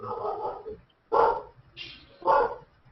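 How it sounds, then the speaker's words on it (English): A dog barks three or four times in short, sharp bursts spaced about half a second apart. The barks are fairly close and sound as if they come through a home microphone during an online group call. "Oh, who's got a dog?"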